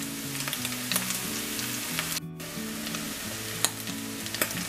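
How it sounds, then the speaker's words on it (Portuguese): Garlic and coriander cured in olive oil being stirred into a creamy lasagna filling, with scraping, clinking utensil sounds and a light sizzle-like crackle running steadily throughout, with no talking. "a gente escorre o azeite e coloca aqui na nossa receita e é só misturar bem"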